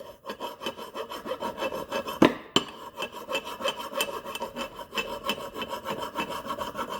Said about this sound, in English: grab yourself a file, and you're going to start filing this stuff